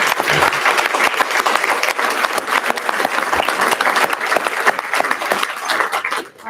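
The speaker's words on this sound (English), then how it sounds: "And let's give a round of applause to our two ASL interpreters." Loud, dense applause from an audience at a gubernatorial candidate forum on disability issues, steady clapping throughout before tapering off at the very end.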